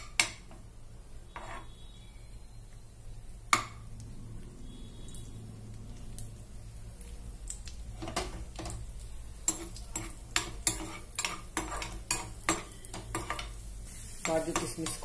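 Cashews and raisins fry in a pan on a stove, with a soft, steady sizzle under scattered clinks and scrapes of a spoon stirring against the metal, growing busier and more clattery toward the end.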